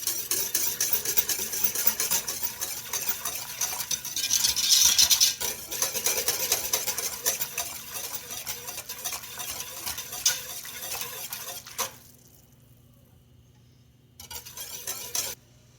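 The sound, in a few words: spoonful of toast slurry added to pork stew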